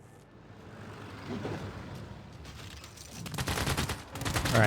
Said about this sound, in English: they are firing on my mechanized infantry army